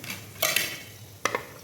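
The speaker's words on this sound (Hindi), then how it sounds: "अब इसमें हम 1 अदद प्याज ऐड करते हैं। इसे गोल्डन ब्राउन करेंगे।" Sliced onion frying in half a cup of extra virgin olive oil is stirred with a spoon, giving two short bursts of scraping and clinking against the pan over a faint, low background hiss.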